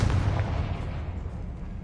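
Confringo fire-blast spell cast in Hogwarts Legacy on PS5, a loud, booming explosive burst with a heavy low rumble that rolls on and slowly decays, close and dense with no talk.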